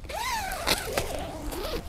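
Single-zipper back door of a tent being unzipped, a continuous close rasping zip pull with a few quick jerks and a final tug, no talk.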